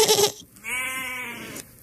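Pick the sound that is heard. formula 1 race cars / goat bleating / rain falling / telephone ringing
goat bleating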